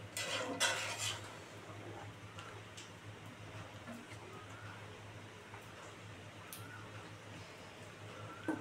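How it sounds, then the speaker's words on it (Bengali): Pieces of foli fish go into a pot of boiling curry: a short burst of clatter and splashing near the start, then a steady low simmering hum with faint scattered clinks. "এবার মাছগুলো দিয়ে দেবো।"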